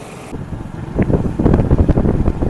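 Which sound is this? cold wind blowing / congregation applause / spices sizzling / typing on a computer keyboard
cold wind blowing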